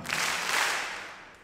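A graduation audience gives a short burst of applause, a brief wash of clapping that starts loud and quickly fades away.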